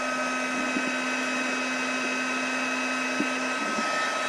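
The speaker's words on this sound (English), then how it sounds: "you want to make sure that you keep your heat gun going" Heat gun running on its low setting while embossing on vellum card, a steady close whirring hum with a faint tonal whine that holds throughout without talk.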